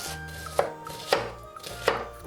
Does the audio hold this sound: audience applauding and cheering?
no